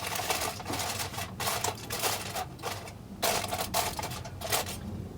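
Aluminium foil crinkling and rustling in bursts as it is tucked loosely over a roast of meat, close and fairly loud, with short crackling pulses separated by brief pauses.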